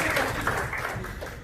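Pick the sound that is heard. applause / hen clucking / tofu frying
applause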